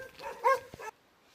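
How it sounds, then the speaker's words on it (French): A dog along a village road in Mosset gives one short, close bark lasting under a second, then falls silent. "il y a un chien qui aboie"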